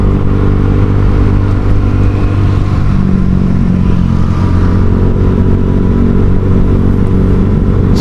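A Honda Vario 150 scooter fitted with a Kenziro racing exhaust runs close and loud, its steady engine drone and deep exhaust note holding without pause on a city street.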